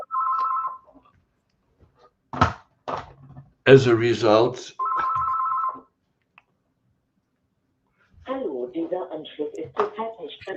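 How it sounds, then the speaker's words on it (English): Telephone ringing during a live stream: two short electronic ring bursts, one at the start and one midway, close and clear, separated and followed by someone talking. "the phone is ringing"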